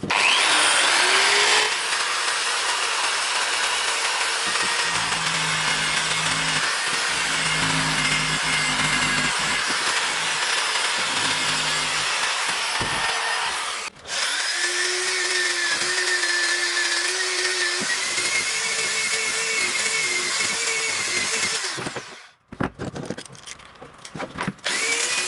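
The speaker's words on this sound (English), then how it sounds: "I'm gonna clean this by sandpaper." Sandpaper works a damaged bearing housing on a Honda Sportrax 300EX quad's rear suspension carrier, a steady close whirring and grinding rasp that runs for most of the stretch with brief pauses, then stops and gives way to scattered handling noises.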